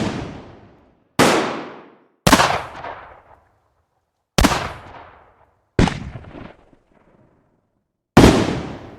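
Six loud shotgun blasts fired at a crow, each a sharp crack with a decaying tail, coming at irregular intervals with silence between and no talking.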